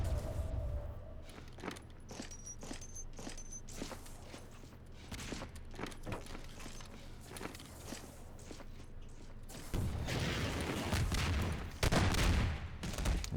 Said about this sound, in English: Wow, what a shotgun.